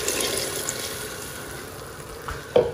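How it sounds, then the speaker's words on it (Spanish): Chicken broth mixed with water poured into a hot pot, a steady sizzling, splashing wash that fades slightly before a short bump near the end. "Ahora hay que echar 250 ml de caldo de pollo."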